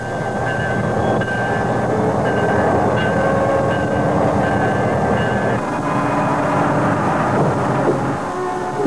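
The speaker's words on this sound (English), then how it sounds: "The pulpwood that has been felled is transported to the log yard by a railway line extending" A train hauling pulpwood on a 250-kilometre forestry railway to a log yard rumbles loud and continuous, with a steady deep roar and faint squealing tones riding over it from start to end.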